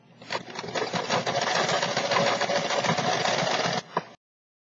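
A sewing machine stitches through knitted fabric for a steek. It runs in one fast, continuous burst of rapid needle chatter for nearly four seconds, then stops.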